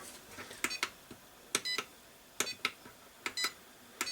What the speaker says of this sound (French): un petit bip, on revient, il y a un double bip